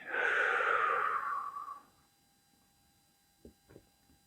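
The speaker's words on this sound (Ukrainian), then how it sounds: "Зроби спокійний вдих. І з видихом закривай очі." A calm breath drawn in and let out during a guided meditation, one long soft airy exhale lasting nearly two seconds, close and alone, followed by quiet and two faint short breaths.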